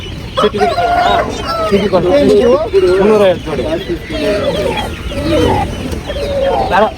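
Mysore native chickens at a crowded livestock market, clucking and calling continuously beneath loud overlapping talk from the people nearby.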